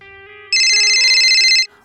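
A telephone rings with a bright electronic warble that starts abruptly, holds steady for about a second and then stops, loud and close with no talking.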